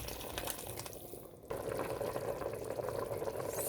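Mutton stew with vegetables bubbling at a steady boil in a pot, a continuous close, even simmering hiss with a slightly louder stretch in the second half.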